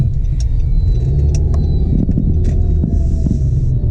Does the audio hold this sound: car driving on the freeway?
yes